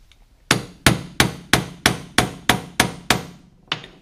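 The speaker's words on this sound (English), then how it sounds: "So you just line it up and then tap it with a hammer." A hammer taps a trolling motor armature into place with nine sharp, evenly spaced metallic strikes, a brief pause, then one more blow, loud and close with no talking.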